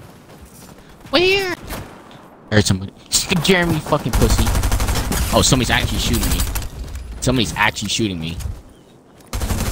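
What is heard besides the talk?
gunfire in the video game Fortnite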